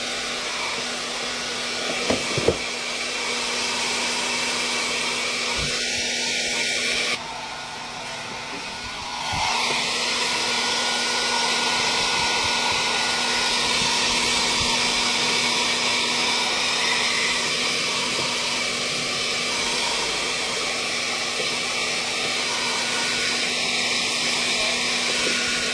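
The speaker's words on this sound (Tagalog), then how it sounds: "Hot air blower." A hot air blower runs loud and close while heating parts during repair of an Astron automatic washing machine with an E8 error. It drones steadily for the whole stretch, dips briefly as if moved or throttled, then resumes, with no talk.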